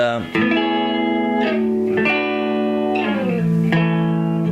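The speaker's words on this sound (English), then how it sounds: "you can put the distortion on this and it sounds just like, any other rock and roll guitar" Sustained, heavily distorted chords from a semi-hollow electric guitar, a Gibson ES-339 copy, ring out loud and close, changing every second or so with thick, buzzing overtones.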